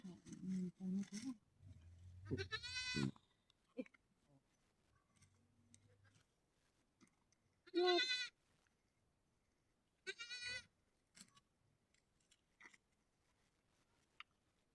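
A goat bleats in a few loud, drawn-out calls around the birth of a kid, separated by quieter stretches of soft handling noise and low voices.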